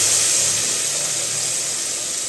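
Cumin, asafoetida and ginger dropped into hot oil for a Gujarati damalu pulao, giving a steady, loud, close hissing sizzle that holds evenly throughout without talk.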